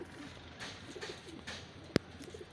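A breeder pair of Rampuri pigeons offered for sale in Lahore coo softly in low, faint pulses, joined by one sharp click near the end.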